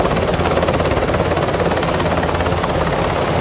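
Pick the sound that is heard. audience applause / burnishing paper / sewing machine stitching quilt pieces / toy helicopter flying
toy helicopter flying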